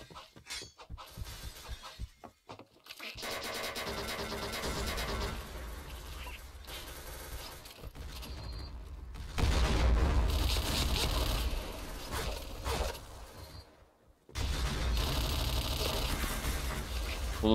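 Gunfire in the shooter game Point Blank: long stretches of dense, rapid automatic fire with harsh cracking, broken by a few brief pauses, fairly loud throughout.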